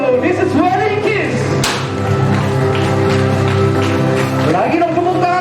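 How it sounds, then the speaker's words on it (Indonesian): Wedding guests clap for the couple's kiss at a wedding reception in Bahu, a dense burst of applause with music playing underneath and a brief thump partway through. "Bapak Ibu tepuk tangannya"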